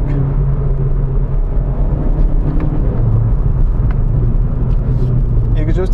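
Inside a moving Hyundai Veloster Extreme Driving Edition, a steady loud low rumble of engine and exhaust carries throughout, with road noise and a voice talking over it.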